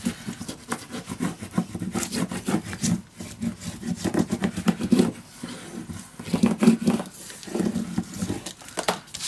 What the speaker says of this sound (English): I am gonna burnish it down so the glue is nicely attached in my papers.